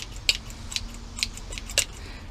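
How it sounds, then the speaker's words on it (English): Scissors snip moss down to the tops of rocks in a fairy garden, giving four or five crisp, close clicks at uneven intervals over a faint background hum. "just take a clippers, scissors or something, and clip right down to the top of that rock"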